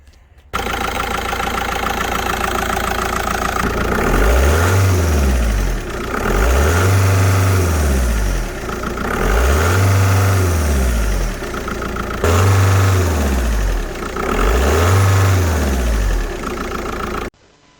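A Seat 2.0 TDI BKD diesel engine fitted with a RAMAIR panel air filter runs steadily and close by, with five repeated revs rising and falling over the idle and no talking.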